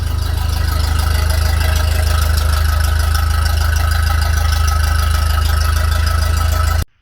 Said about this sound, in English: here she is running, my TEA20. Only just started it, so it's running on petrol.